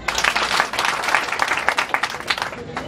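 An audience claps at a graduation gathering, giving dense, fairly close applause that holds steady for about three seconds.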